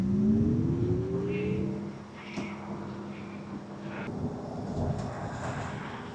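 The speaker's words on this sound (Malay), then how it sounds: "Dia ada satu bunyi yang macam artificial sedikit, tapi bunyi cyber lah." An MG Cyberster electric sports car gives off its artificial spaceship-like drive sound, a synthetic tone that glides upward and then holds steady under a low rumble, moderately loud with faint whirs and no talking.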